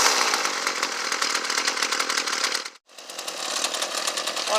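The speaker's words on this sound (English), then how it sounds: "this lever will make the weed eater start and stop" Ryobi full-crank two-cycle weed eater engine running loud and steady up close, with a brief cutout near the three-second mark before the buzzing drone picks back up.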